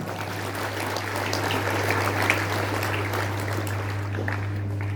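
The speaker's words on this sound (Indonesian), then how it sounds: "Tepuk tangan boleh, silahkan." A crowd applauding steadily, a dense even patter of many hands clapping throughout, with a low electrical hum underneath.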